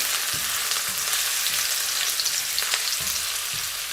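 Ginger frying in a hot pan, a steady loud sizzle with crackling spits throughout, no voices over it.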